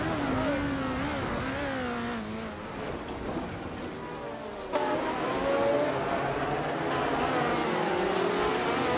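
Race car engines in a racing video game, including a Parnelli PJ4, whine and rev as the cars shift and overtake, with a louder surge of engine noise partway through.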